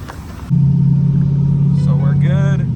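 A big turbocharged third-generation car cruising on the drive home, its engine a loud, steady low drone that steps up after a brief quieter start, with a short voice and squeaks over it near the end.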